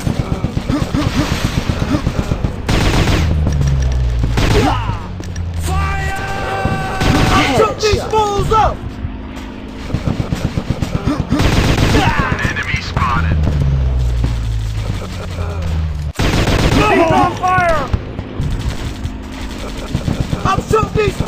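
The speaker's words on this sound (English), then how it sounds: "I'm shooting these fools up!" Rapid bursts of machine-gun fire and gunshots from an anime-style shooting video game, loud and nearly continuous, with fusillades repeating alongside game effects and occasional shouting.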